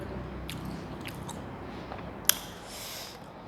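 Someone bites and chews stir-fried white lingzhi mushrooms in oyster sauce, eaten with steamed rice, close to the mic, with soft crunches and one sharp bite.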